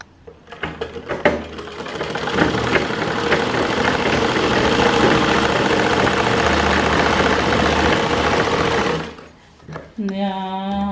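A sewing machine stitches a blouse fold in a fast, continuous mechanical rattle up close for about eight seconds. It then stops abruptly and a voice follows.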